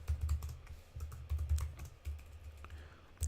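Computer keyboard typing in a quick, irregular run of soft clicks and taps, close and fairly quiet, with short pauses between bursts and no talking.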